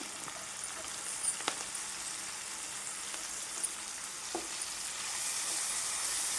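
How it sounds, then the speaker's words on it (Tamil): Onion, tomato and garlic sauté in a pan, a steady hissing sizzle heard close, with a few faint clicks of the utensil and no voices. "இது கொஞ்சம் நேரம் நம்ம நல்லா கொஞ்சம் வதங்கட்டும்"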